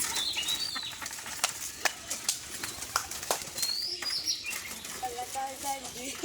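A dove is released and its wings flap in a quick burst of clattering beats, followed by scattered chirps and soft calls from nearby birds, with faint background noise throughout.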